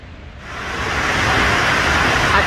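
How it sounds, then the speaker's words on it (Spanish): Broadband rushing roar of Burney Falls waterfall, heard from a distance in the park, steady and loud, swelling slightly over a couple of seconds with no voices. "Que desde aquí ya estoy escuchando el ruido del agua."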